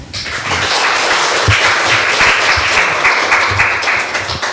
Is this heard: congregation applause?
yes